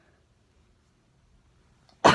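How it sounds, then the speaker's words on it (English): After nearly two seconds of near silence, a single sharp, close cough bursts out at the very end. "Trying so hard not to cough"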